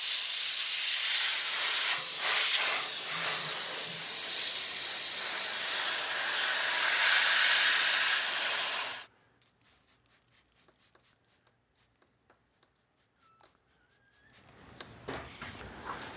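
Steam cleaner hissing loudly and steadily against the dirty brake calipers of a BMW F10 M5 for about nine seconds, then cutting off abruptly, leaving faint clicks and light handling noises.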